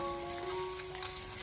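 Fermented bean curd sauce sizzles in a wok with pork belly over low heat, a short, close, continuous hiss with faint tonal ringing from the pan and no voices.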